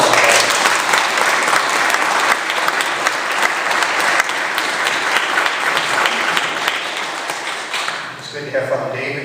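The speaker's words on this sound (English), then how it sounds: "How about a nice round of applause?" Steady applause fills a hall at a parish's 25th anniversary celebration, thick and even for most of the stretch before thinning out near the end as a voice starts speaking.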